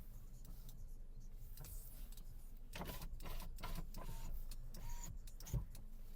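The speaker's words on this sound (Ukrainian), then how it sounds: "Склопідйомники. Працюють." Faint whirring of Renault Megane power windows moving, heard in a few short motor runs with small clicks in a quiet cabin.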